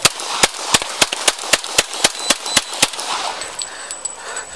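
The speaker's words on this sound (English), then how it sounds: "Shots fired" A rapid series of sharp gunshots cracks out at a roughly even pace during a police officer-involved shooting, about a dozen reports in a few seconds, heard over a steady background hiss.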